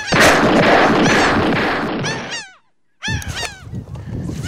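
A flock of birds arriving calls loudly and close with harsh, honking cries, breaks off into a short silence, then resumes calling.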